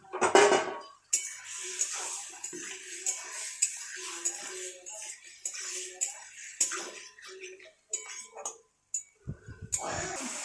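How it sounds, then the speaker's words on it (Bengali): Potato and taro pieces dropped into a pot with tomatoes, bringing sharp metallic clatters and scrapes of a spoon against the vessel, close and irregular, with quiet gaps between bursts. "টমেটো কষানো হয়ে গেছে, এর মধ্যে আমি আলু আর কচুটা দিয়ে দিলাম।"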